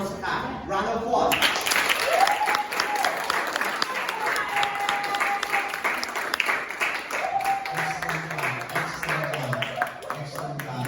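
Students and guests applaud at a seventh-grade school Sukkah fair presentation, sustained clapping for the whole stretch, with voices and occasional whistle-like tones mixed in beneath.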